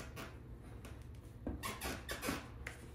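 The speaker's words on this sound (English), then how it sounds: "It's pretty squeaky." A squeaky floorboard gives several short creaks and squeaks as it is pushed down, faint and close, with soft knocks between them in a quiet room.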